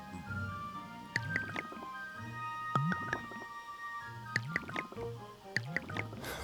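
Four Minecraft brewing stands working at once, giving off repeated wet bubbling pops and drippy squelches in uneven clusters, fairly quiet and close, with no talk over them.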